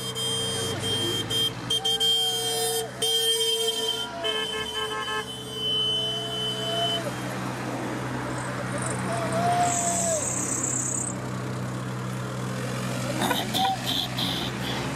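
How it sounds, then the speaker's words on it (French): Heavy road traffic on a busy street at night, a steady rumble of many passing cars and engines with occasional horn toots and higher whines cutting through the continuous wash of vehicle noise. "Beaucoup de véhicules, vous voyez, je ne sais pas combien il y a de voitures"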